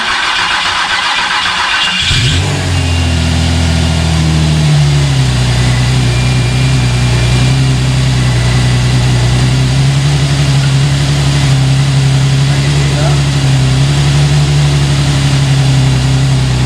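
A rebuilt Nissan 350Z engine cranks and catches, revs up briefly, then settles into a loud, steady idle that runs on without voices.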